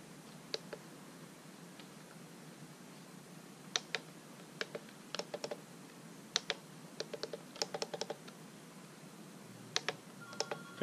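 A password is tapped out on a Swift 3C phone: faint, irregular clicks of key presses, some in quick runs and some spaced apart, over a quiet background.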